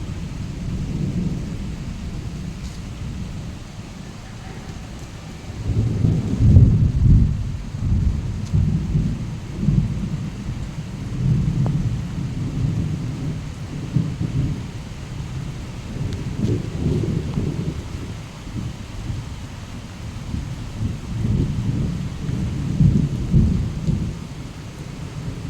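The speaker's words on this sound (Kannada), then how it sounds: "ಮಿಂಚು ಕೂಡ ಇದೆ, ಗುಡುಗು ಕೂಡ ಇದೆ." A thunderstorm with steady rain and repeated rolls of thunder, recorded on a hot evening; low rumbles swell and fade several times over a continuous wash of rainfall, with no voices.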